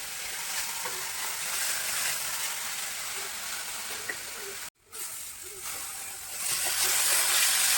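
Finely chopped onion frying in oil in a home kitchen pan, giving a continuous hissing sizzle with a brief silent gap midway, then growing louder toward the end, no talking heard.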